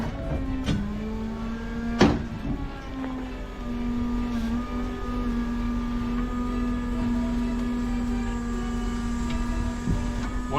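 A steady electric motor drone with a whining hydraulic tone held throughout from a Stellar Industries TMAX mechanics truck, a couple of sharp clicks breaking in, and no talking.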